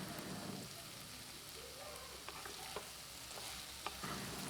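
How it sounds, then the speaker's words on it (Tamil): Bottle gourd and peanut poriyal is stirred in a pan, giving a soft, steady frying hiss with scattered light utensil clicks, fairly faint throughout. "கிளறி விட போகிறோம்"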